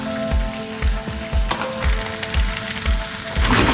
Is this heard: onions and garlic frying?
yes